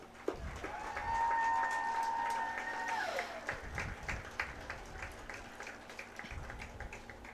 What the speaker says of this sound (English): one more big round of applause for your seniors of the Lakeview High School